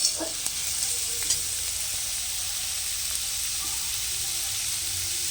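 Fish cooks in a small amount of oil in a pan, producing a constant close sizzle with a few faint clinks of stirring near the start and no talking.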